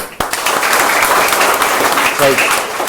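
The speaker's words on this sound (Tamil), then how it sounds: "கைதட்டுங்க." Children applaud together in a classroom, a steady dense patter of small hands clapping loudly for nearly three seconds, with a brief voice surfacing near the end.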